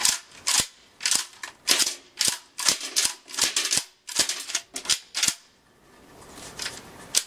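A shotgun is unloaded and pumped, making a close, loud series of about a dozen sharp metallic clacks in a steady rhythm, followed by a quieter stretch of faint handling noise.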